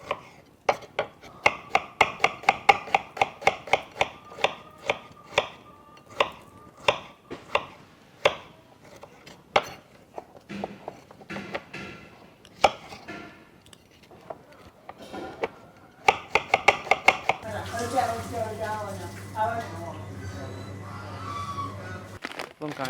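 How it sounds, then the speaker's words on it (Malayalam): A knife chops rapidly on a board while ingredients are cut up for goat biryani, sharp rhythmic knocks in fast bursts with short pauses, followed by a stretch of steady kitchen clatter and a low hum. "ആട് വേകുമ്പോഴേക്കും നമുക്കിത് കട്ട് ചെയ്ത് വെച്ചാൽ"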